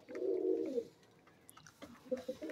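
Pigeons coo softly nearby: one long throaty coo, then quieter scattered coos and rustling.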